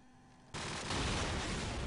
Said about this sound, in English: lays down some covering fire, just trying to push them back